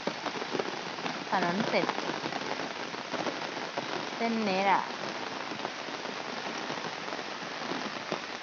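Evening rain falls steadily on surfaces outdoors, a dense, even patter throughout, while a person talks briefly over it.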